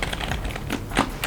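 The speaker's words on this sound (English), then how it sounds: "Very strong type keys, and this has flippers, and it has a very like a rugged look to it, and the clicks are good." Rugged gaming keyboard with firm, clicky keys being typed on, a quick close-up run of sharp key clicks and taps with no talking.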